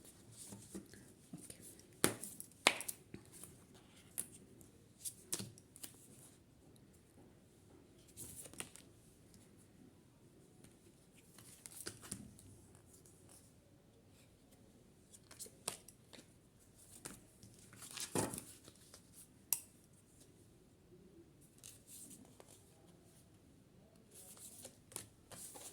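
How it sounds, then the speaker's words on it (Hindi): Tarot cards handled and drawn from the bottom of a deck, heard as quiet, scattered papery taps, slides and flicks in a hushed room, with no talking. "बॉटम ऑफ द डेक को लेंगे और 4 कार्ड मैंने निकाल लिया है।"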